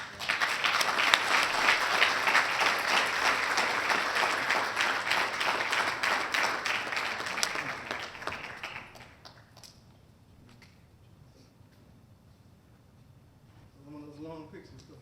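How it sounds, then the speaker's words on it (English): An audience at a police awards ceremony applauding loudly and steadily for about eight seconds before the clapping fades into scattered claps and quiet room noise, with a voice speaking near the end. "One more round of applause."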